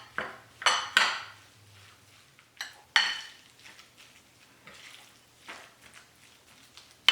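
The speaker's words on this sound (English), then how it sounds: "Now you can just mix this all up." A spoon clinks and scrapes against a bowl while sweet soy sauce, oyster sauce and fish sauce are mixed for a steamed bun filling; several sharp knocks early on, then softer stirring scrapes, close and alone.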